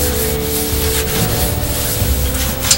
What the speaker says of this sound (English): Whatever oil has not soaked into the wood at that point I'll wipe off.